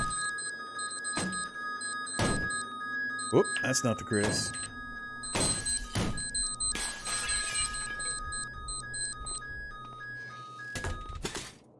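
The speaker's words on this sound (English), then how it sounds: "Somebody set off the alarm." In the video game Cataclysm DDA, an electronic alarm rings continuously with a repeating high beeping pattern, punctuated by loud thumps and clicks while someone talks over it.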